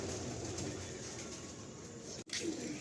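Pigeons in a loft coo softly and continuously, a low murmuring close by with a steady background hiss and a brief dropout near the end.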